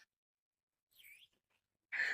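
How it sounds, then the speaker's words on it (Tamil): Water-filled toy whistle bought at a market gives short, faint chirps like a sparrow, one brief trill midway and a louder burst at the end, amid near silence. "விசில் வந்து குருவி கத்துற மாதிரியே அழகா இருக்கு"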